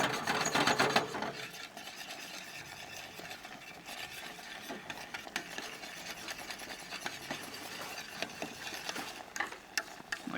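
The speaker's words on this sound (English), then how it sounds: "scraping the sides down" Scraping of a utensil around the sides of a pot of cooking homemade smoke bomb mixture, a steady close raspy rubbing with irregular ticks and clicks, fairly quiet and without voices.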